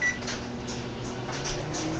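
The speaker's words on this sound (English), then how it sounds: "Okay, this will go into the microwave" A microwave oven runs with a steady, low mechanical hum, close and even throughout the short stretch.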